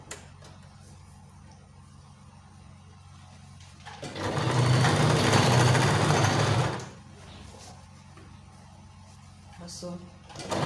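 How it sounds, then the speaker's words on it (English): Sewing machine stitches a fabric strip onto a camisole top in one steady whirring burst of about three seconds, with quieter handling noise before and after. "So we sew it in like so."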